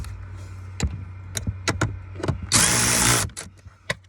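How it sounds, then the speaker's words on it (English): Ratchet driving screws on a Pontiac G6 blower motor: a series of sharp, close clicking strokes with irregular spacing, followed by a brief, louder whirring burst of about a second, then a few more clicks. "Just use the ratchet to get that in there."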